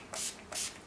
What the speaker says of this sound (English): I go right back in with my Urban Decay Deslick and spray